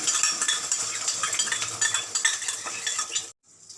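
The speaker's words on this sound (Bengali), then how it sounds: "ভালোভাবে চামচ দিয়ে ডিমটা ঘুটে নিতে হবে" Eggs beaten with salt using a spoon in a bowl for a quick homemade omelette, giving a busy run of close metallic clinks and scraping taps that stop abruptly near the end.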